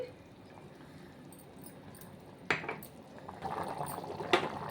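Mutton curry bubbling in a pot as it cooks, a soft continuous simmer with a couple of sharper liquid bursts and gurgles building toward the end, close and fairly quiet.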